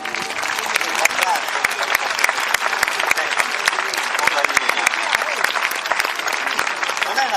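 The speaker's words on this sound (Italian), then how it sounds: "Facciamo un po' di applausi in pubblico." A crowd applauds at a horse show in Oristano, Sardinia, dense rapid clapping sustained throughout, with some voices mixed in.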